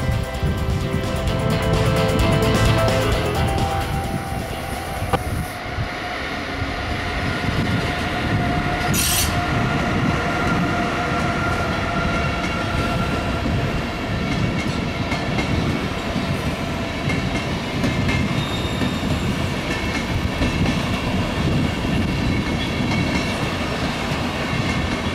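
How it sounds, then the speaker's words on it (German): An Intercity train rolls through Stuttgart main station, its carriages rumbling and clattering steadily over the rails with high wheel squeals, loud and sustained for a long stretch. "Der Intercity von Oberstdorf fährt über Dortmund und Hannover nach Magdeburg."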